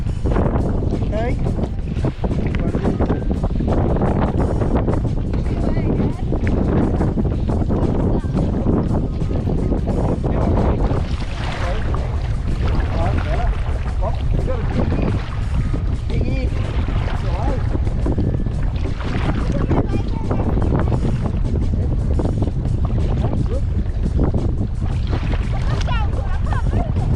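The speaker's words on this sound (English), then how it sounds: "Not the paddle, it's the wind. It's the amount of wind." Strong wind buffets the microphone outdoors during a kayak outing on open water, a loud continuous roar that stays steady for the whole stretch, with occasional voices mixed in underneath.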